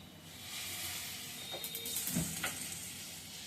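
Hot water poured into a pot of khichuri on the stove, a steady broad hiss and sizzle rising as the water hits the hot pan, with a few brief splashy surges midway and no talking.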